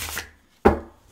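Tarot cards being shuffled give two short, dry bursts of card noise, a softer one at the start and a sharper, louder one later, each fading quickly, with quiet gaps and no talking.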